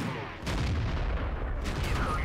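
IS-2 tank cannon fire in World of Tanks, a heavy booming blast with a dense rumbling battle din that stays loud throughout, a second sharp shot near the end.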